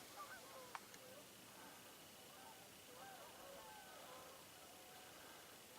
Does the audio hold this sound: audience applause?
no